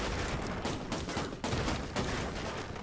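Rapid gunshots in the video game Redeemer, loud and close in a continuous dense volley with sharp repeated bursts throughout.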